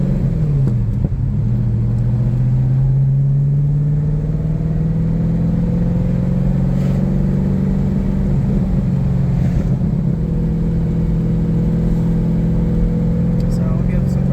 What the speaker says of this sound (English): So we'll give it some throttle here.